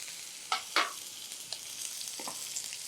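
Ginger and green chili paste fry in hot oil for karamani sundal, a steady close sizzle broken by a few sharp stirring scrapes.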